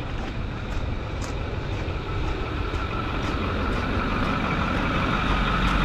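A Ford four-wheel drive truck in a video game strains its engine in a dense, continuous low rumble that holds steady and grows slightly louder over about six seconds.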